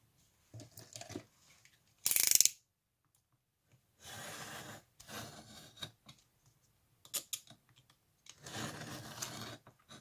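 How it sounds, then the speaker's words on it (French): Craft knife slicing through card, several short scraping strokes in separate bursts with pauses between, close and fairly quiet, no voices. "Alors ça, je vais le couper au cutter."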